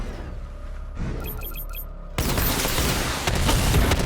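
Batmobile missile barrage in Batman: Arkham Knight, a loud salvo of rapid launches and explosive booms that breaks into a dense, continuous roar of impacts after a brief electronic whine and beeps.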